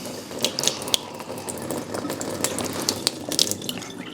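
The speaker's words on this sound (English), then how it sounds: "So I'm gonna just pour it all the way, so you'll see." Water pouring steadily from a container, a continuous splashing trickle with a few brief clinks and knocks, close and moderately loud, no voices.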